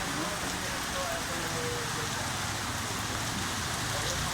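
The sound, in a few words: heavy rain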